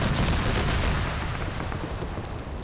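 Rear guns of a WW2 St Nazaire Raid battle game hammer away at infantry in a dense, continuous barrage of gunfire and booms, loud and steady throughout, easing slightly toward the end.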